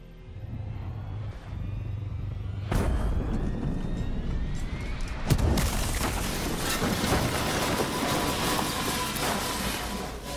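Giant explosion in Call of Duty Black Ops 3, Nightmare mission: a low rumble builds, then sharp blasts hit at about three and five seconds and become a loud, sustained roaring boom with heavy crackling debris, and no voices.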